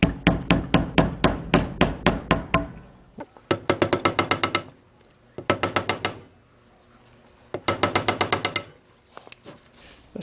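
A mallet taps a fork seal into a Kawasaki KZ650 CSR fork leg through a scrap piece of wood, giving quick, close, hollow knocks in rapid bursts separated by short pauses.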